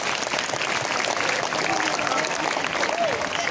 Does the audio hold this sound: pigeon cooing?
no